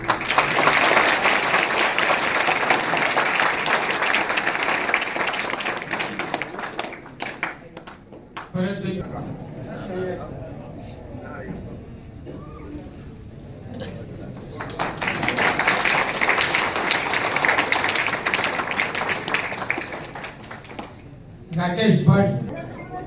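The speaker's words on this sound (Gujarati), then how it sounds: "તાળીઓ." An audience at a student reunion gathering claps in two long, full bursts of applause, with a stretch of talk between them and a brief final flurry.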